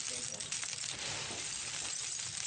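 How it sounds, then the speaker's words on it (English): Smashed, burnt coconut shells for charcoal shift and tinkle like broken glass, a dense, steady clatter of brittle fragments heard close up with a voice talking over it. "That tinkling sound is the sound of smashed, burnt coconut shells"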